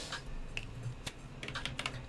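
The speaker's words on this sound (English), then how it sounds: "Come on, let me type." Keystrokes on a computer keyboard while coding in VS Code, light scattered clicks in short bursts at close range, with no talking.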